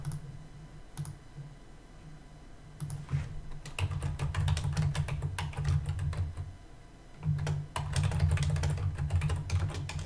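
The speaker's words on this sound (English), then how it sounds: "Is it really loud when I type?" Fast, loud typing on a computer keyboard at a desk during an online card game, with sharp, dense key clicks that come in bursts and run almost continuously. The clatter sits close over a low background hum, with no voices.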